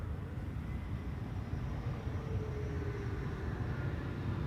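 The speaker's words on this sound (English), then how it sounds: "E2 Embraer 195, having arrived from Zurich, a flight which lasted an hour and 5 minutes." A Helvetic Airways Embraer E195-E2 jet arrives at Amsterdam Schiphol from Zurich, a dense, even low rumble of engine noise holding steady throughout with a faint rising whine in the middle.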